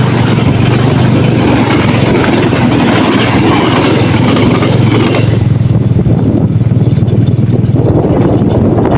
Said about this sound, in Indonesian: Tuh ada kereta api mau melintasi.